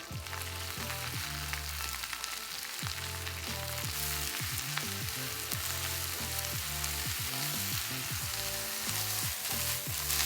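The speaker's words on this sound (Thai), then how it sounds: "มาผัดปวยเล้งหรือว่าผักโขมนะครับ ก็จะใส่ผักลงไปเลย" Spinach stir-frying in a pan, a steady loud sizzle broken by repeated scraping strokes of the spatula, with no voices.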